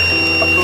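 A smart forest fire prevention system's alarm triggered by detected smoke, a thin steady high-pitched electronic tone held throughout this very brief moment over a background hum.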